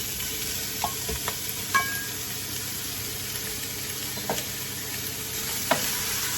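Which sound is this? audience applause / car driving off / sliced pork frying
sliced pork frying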